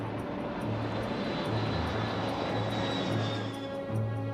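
Concorde supersonic airliner engines give a steady, moderately distant roar with a faint high whine and a low pulsing throb, continuous and without voices.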